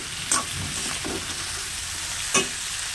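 Turmeric and spice paste fries in a pan with a continuous close sizzle, broken by two sharp clicks of a utensil.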